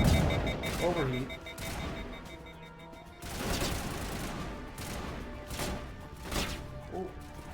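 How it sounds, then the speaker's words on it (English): Enemy gunfire in the video game Mass Effect, a series of sharp shots and bursts spread through the stretch over a busy game soundscape, with a voice talking at times. "Who's shooting at me?"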